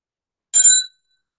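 A single bright meditation bell rung once before bowing during an evening practice session, a clear metallic strike with shimmering overtones that rings briefly and fades in under half a second, heard alone in silence.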